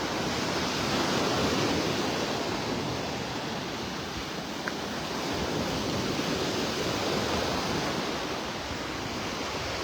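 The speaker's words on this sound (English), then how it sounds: "with these waves, that water's churned up" Ocean surf rolls steadily onto Vanderbilt Beach in Naples, Florida, a continuous broadband wash of churned-up waves with light wind, close and fairly loud throughout, with no talking.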